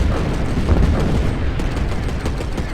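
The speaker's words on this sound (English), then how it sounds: "Darn missile launcher." Rapid bursts of heavy booming missile launcher fire in the mech video game Mecha Knights: Nightmare, loud and close, with thick rumbling explosions rolling through the short stretch.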